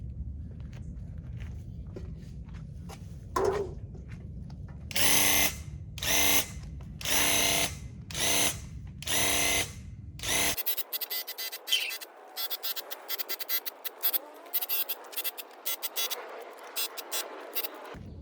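A Graco battery-powered paint sprayer runs in loud bursts of spraying with brief pauses between them, then changes to a rapid stuttering pattern of shorter bursts.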